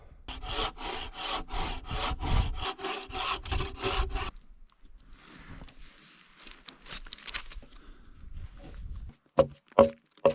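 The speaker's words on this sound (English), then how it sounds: "So now I'm just going to make a cut where those two lines are." Steady back-and-forth strokes of a hand saw through a log cabin's door frame, rhythmic and close, followed by quieter scraping and a few sharp knocks at the end.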